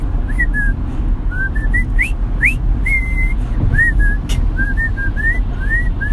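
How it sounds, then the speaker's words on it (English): A person whistles a lively melody, reportedly the tune from Spaceballs. The clear, bright notes rise and fall in quick phrases over a steady low background rumble, continuous and fairly loud throughout. "I just start whistling a tune. I think it's the tune they use in Spaceballs."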